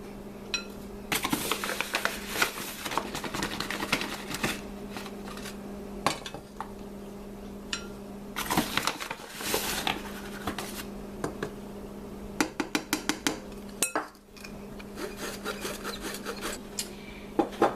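Self-rising flour being sifted by hand in a home kitchen, a continuous scratchy rasp of the metal sifter cranking in bursts, with light clinks of utensils, close and steady, with no talk.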